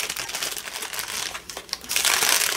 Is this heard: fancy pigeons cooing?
no